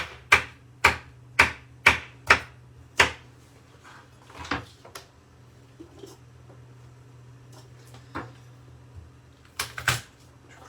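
A knife chops through the root end of a spring onion on a cutting board, six sharp, evenly spaced close knocks, then scattered softer taps and a few more cuts near the end, alone with no talking.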